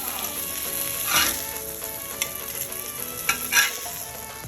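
Masala fish frying on a tawa in a little oil, an even close sizzle with a few sharp spatters and scrapes rising over it.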